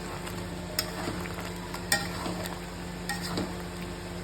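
Ground paste made from two medium tomatoes is stirred into a frying chicken curry, with a soft, constant sizzle broken by a few scraping spoon strokes against the pan, with no talking.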